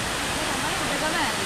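Udagama Ella waterfall near Hulangala in Matale, Sri Lanka, a steady broadband roar of falling water, loud and close throughout with no clear breaks.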